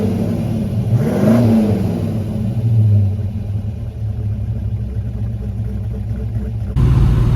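A rebuilt 1961 Studebaker Hawk engine runs during a test drive, a loud low rumble with a rising rev early on and a steady drone that shifts character near the end.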